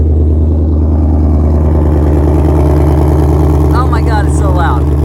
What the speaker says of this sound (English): just listen to the idle real quick